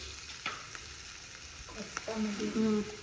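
Mint and coriander leaves sautéed with brinjal and tomato in a pan for a kadayal, a soft sizzle with intermittent stirring scrapes that grow louder near the end.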